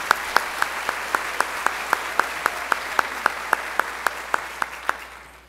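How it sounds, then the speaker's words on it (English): Slow, evenly spaced claps at a school senior salute evening, a regular rhythmic beat of single loud hand claps over a quieter background patter, tapering off near the end. "let's give another round of applause to our senior singers this evening"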